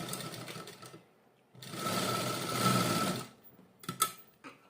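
A sewing machine stitches a blouse in short bursts, with a brief run, a pause, a steady run of nearly two seconds, then a few quick stuttering stitches close by.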